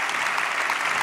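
A large audience at a talk applauds for visitors from Toulouse, with dense, even clapping sustained throughout a short burst.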